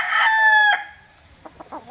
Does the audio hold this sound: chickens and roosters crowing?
yes